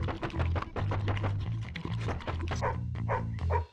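A dog barks in Madagascar: Escape 2 Africa, a run of quick, fairly loud yaps over low game music, with short dull thuds mixed in.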